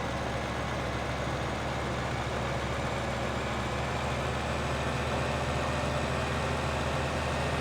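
A tractor engine in the video game Farming Simulator 15 drones steadily, a dense continuous rumble that holds at an even level without pauses, with no talk over it.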